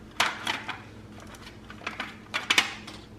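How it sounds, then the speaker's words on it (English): A knife cuts into a pastry and scoops it from its tray: a few sharp scraping clicks and taps in short bursts, close and fairly quiet. "I'm just going to cut it like this and try to scoop it out of here"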